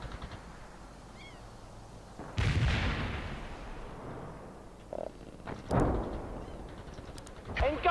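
Mortar and artillery fire in the World in Conflict war strategy video game, two heavy booming blasts with rumbling decay and a sharper burst at the end, set against quiet battlefield ambience.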